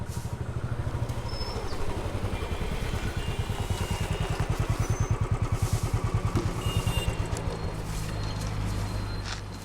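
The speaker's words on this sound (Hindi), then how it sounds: "उस बाइक का इंजन सही कर।" Motorcycle engine idling close by, a steady rapid pulsing thump throughout at constant loudness, with no talk over it.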